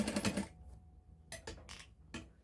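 A sewing machine stitches a waistband of fabric in a quick rattling burst, then stops and restarts in several short runs of stitching, close and clear.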